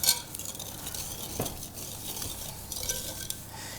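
A spoon or whisk working flour into beaten eggs and sugar for a quatre-quarts pound cake, soft scraping and stirring against a bowl with occasional light clinks, close and steady.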